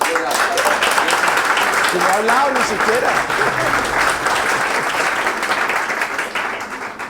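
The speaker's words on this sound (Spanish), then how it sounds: "a quien pido un fuerte aplauso a grandes" An audience at a tech gathering gives a strong round of applause, loud and sustained clapping throughout with a voice briefly speaking over it before it gradually tapers off.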